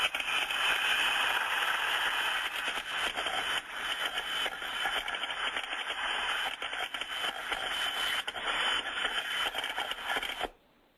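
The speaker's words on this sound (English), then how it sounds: "a little bit of a crackling sound as that steam comes through" A steam trap in continuous discharge gives a steady, dense crackling hiss at even loudness, then cuts off abruptly at the end.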